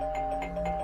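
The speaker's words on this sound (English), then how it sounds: "you're ringing the doorbell like crazy" A doorbell rings in the horror game Tiny Bunny, a clear repeated chiming tone pulsing several times in quick succession over a low steady background hum.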